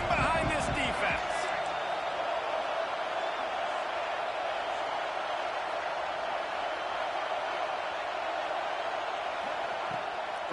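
A stadium crowd in the NCAA 26 college football video game roars steadily during a third-down defensive stand in the red zone, a loud, dense wash of cheering that holds from start to finish, with a few sharp thuds early on.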